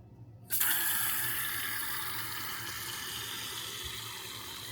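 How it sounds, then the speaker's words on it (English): Outdoor campervan shower switched on hot, water gushing steadily after a sudden onset and running continuously with an even, close splash and hiss. "So I've got the outside shower. I'll put it on hot, see what we get."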